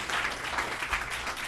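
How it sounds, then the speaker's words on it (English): A board of education meeting audience gives a round of applause at adjournment, a steady, moderately distant patter of many clapping hands throughout. "one more round of applause"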